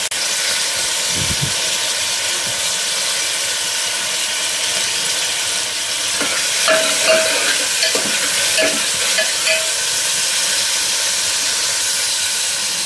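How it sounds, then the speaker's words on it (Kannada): Onions frying in a pan for tomato rice, a steady broad sizzle and hiss throughout with occasional stirring scrapes and clinks from around the middle, no one talking. "ಈರುಳ್ಳಿ ಸ್ವಲ್ಪ ಫ್ರೈ ಆಗಲಿ."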